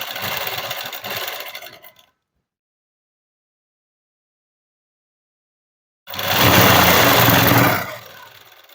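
Sewing machine stitching along the folded-in edge of cloth, loud and close in two bursts of steady whirring separated by about four seconds of silence, the second run stronger and even.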